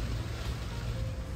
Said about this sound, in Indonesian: Tapi ini tiba-tiba hujan deras